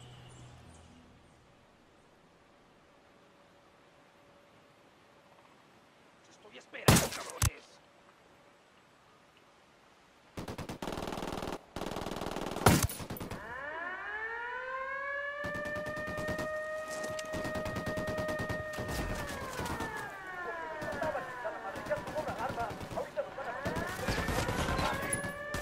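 Gunfire in the video game Ghost Recon Wildlands: a couple of sharp shots after a quiet stretch, then sustained bursts of rapid fire with falling whistling tones. Fighting voices are heard briefly.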